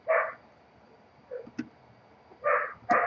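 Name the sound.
dog barking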